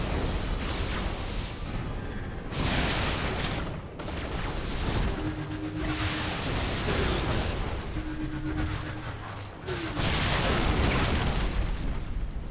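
A unit is destroyed in Civilization: Beyond Earth: loud, broad rumbling blasts arrive in several heavy bursts with brief quieter gaps between them, plus a faint tonal hum in the middle.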